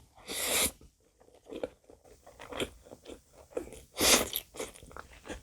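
Close crunchy chewing and biting of pasta tossed in perilla oil with octopus jeotgal, a few loud bites followed by softer irregular mastication and mouth sounds, with no talking.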